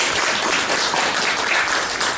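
A dense wash of steady clapping from a church seminar audience, continuous and fairly loud throughout the short stretch without any voices on top.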